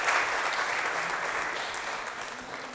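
Applause from an audience at a talk on neuroscience strategies for teachers, a steady, moderately faint patter of many hands that fades gently over a few seconds.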